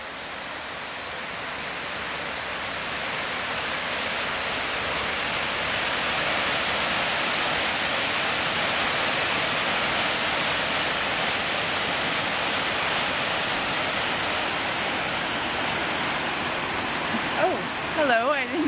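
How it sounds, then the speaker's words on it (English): A waterfall gives off an even, full-bodied rush of falling water that builds slightly and holds steady for most of the stretch, with a voice briefly heard at the very end. "So I took Jenni to this lovely waterfall today, and took some video"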